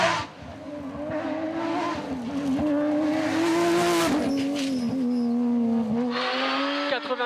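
A rally car moves off without using the clutch, its engine droning steadily and rising in pitch as it pulls away, loud and close inside the cabin, with brief clunks and a few short revs near the end.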